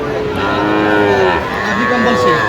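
Sahiwal and Gir cattle moo loudly and continuously, long drawn-out lowing calls overlapping one another, close by with a steady outdoor background.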